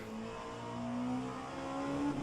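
LMP2 race car engine in rFactor 2 during a multiclass 6-hour Nürburgring race, a sustained tonal engine note rising steadily in pitch as it accelerates, no talking.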